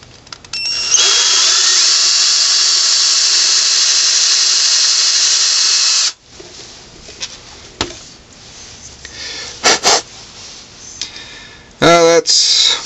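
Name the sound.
drill boring into wood face grain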